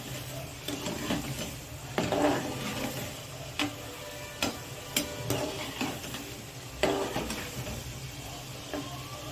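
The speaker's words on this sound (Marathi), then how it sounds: "व्यवस्थित असे आपण हे मोदक तळून घ्यायचे." Wheat flour modak deep-frying in hot oil, giving a soft continuous sizzle broken by sharp, irregular ticks and clicks from the ladle or pan, close and fairly quiet, with no talk.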